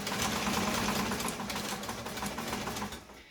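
A White 966/999 sewing machine stitching a blind stitch, a fast steady mechanical whir and clatter running continuously, close and clear, slowing to a stop at the end.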